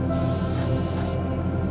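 Aerosol paint sprayed onto a Ferrari SF90 Stradale scale model, a single close, steady hiss lasting about a second under a constant low room hum.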